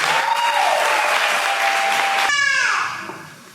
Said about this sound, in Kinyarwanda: Pastor Elia karibu tumukomera amashyi cyane.